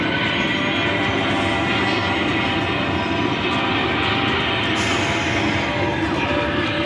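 A ride at LEGOLAND's LEGO Galaxy plays a main engine test effect, a loud, steady, broadband roaring rumble like a rocket or jet engine that holds constant for several seconds.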